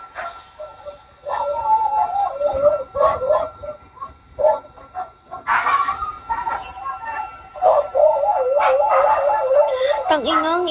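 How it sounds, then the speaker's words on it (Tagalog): Several dogs barking and howling noisily, yips and drawn-out howls coming in repeated bursts over roughly ten seconds, fairly close and loud. "ingay na naman ng mga aso"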